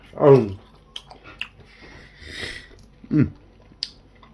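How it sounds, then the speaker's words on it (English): Close, wet chewing and biting sounds in a few short bursts, with small clicks and squishes between them. "I hope you can hear me chewing down camera"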